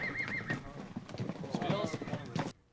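Horses at a ranch roundup, gathered rookie horses bound for a wild horse race, clip-clop close by with an occasional whinny, under steady talk from a person nearby.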